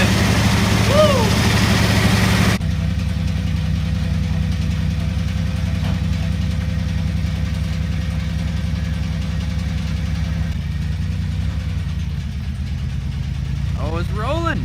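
A Toyota 4Runner engine idles steadily after a timing belt replacement, a loud, even low drone that runs throughout while people cheer and talk excitedly nearby.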